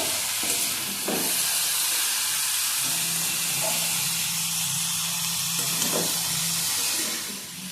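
Fenugreek greens fry with potatoes in a pan, giving a steady, close hiss and sizzle of steam, broken by a few soft stirring scrapes.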